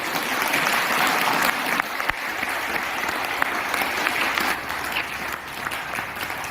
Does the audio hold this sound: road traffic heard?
no